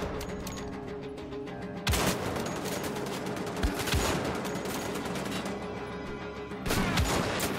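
Gunshots in the video game Wolfenstein: The Old Blood, several sharp loud cracks standing out from a continuous bed of battle noise and mechanical clatter.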